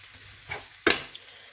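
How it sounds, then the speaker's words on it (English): Vegetables sauté in a pan on a stove over low heat for a vegetarian run-down: a soft continuous sizzle with a couple of stirring scrapes, one sharper clatter near the middle, close and quiet. "Let this saute a little."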